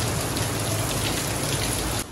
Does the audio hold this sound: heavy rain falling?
yes